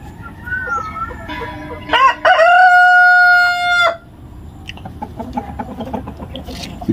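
Laying hens in a coop clucking and cackling, with one bird breaking into a loud, drawn-out squawking call that rises to a peak and then fades back into softer, scattered clucks close by.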